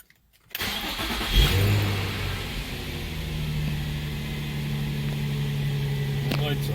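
A repaired Nissan 350Z engine cranks and catches, then settles into a steady, loud idle that runs on to the end, with faint talk in the background.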